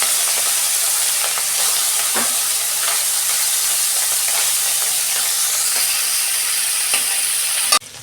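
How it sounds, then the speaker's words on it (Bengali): Fish shallow-frying in hot oil in a kadai, giving a steady, close, dense sizzle with scattered crackles and pops throughout before cutting off abruptly near the end. "তেল গরম হয়ে গেছে, প্রথমে মাছটা ভেজে নিচ্ছি"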